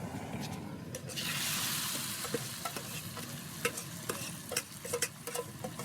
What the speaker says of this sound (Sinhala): පරිප්පු තෙල් දාගන්න හදන්නේ.